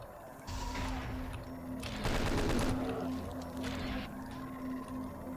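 Rapid chain gun fire in the video game Doom 2, a dense burst of repeated gunshots rattling for about a second amid game background noise, with lighter gunfire before and after.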